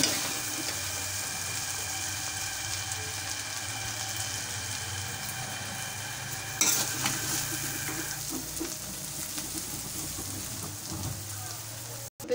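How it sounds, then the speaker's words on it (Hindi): Potato pakora biryani being mixed in a pot, a continuous soft sizzle with scraping and stirring, louder and busier in the second half, ending with a brief knock. "अब इसे मिक्स करेंगे,"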